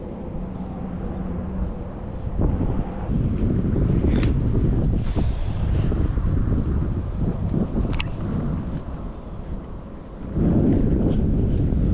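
Gusty wind buffets the microphone on a fishing outing, a steady low rumble rising and falling throughout, with a few brief clicks and knocks from handling the rod and gear close by.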